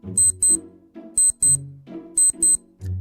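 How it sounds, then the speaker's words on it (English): An electronic alarm clock rings in short repeated bursts of high beeping, two quick pulses at a time, layered over a brief melodic tone pattern. "that's your 5 a.m. alarm letting you know that your day has just begun"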